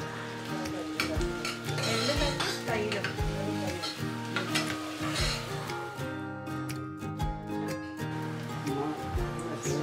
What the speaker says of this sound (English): Heat a mix of ghee and oil. Salt saute one onion along with a few green chilies.